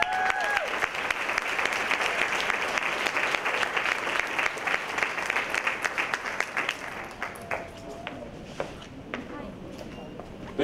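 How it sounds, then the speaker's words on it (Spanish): An audience at a graduation oath ceremony applauds the graduates in a full, continuous round that gradually thins into scattered individual claps toward the end, with some voices audible. "Pedimos por favor un aplauso para todos los graduados."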